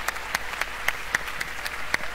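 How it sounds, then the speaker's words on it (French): Audience applause at Sony's E3 2011 press conference, a scattered, moderately loud clapping with distinct sharp claps standing out across a couple of seconds. "On voit quand même des applaudissements assez nourris"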